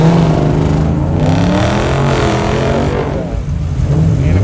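A Nissan GT-R revs loudly and steadily at a street drag strip, its engine holding a rough, rising roar close by for the whole stretch with a brief dip near the end.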